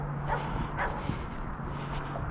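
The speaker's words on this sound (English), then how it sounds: "The dog is telling me to stay away." A dog beside a house with an outdoor swimming pool barks in a few short, muffled bursts at a distance over steady outdoor noise on a snowy day.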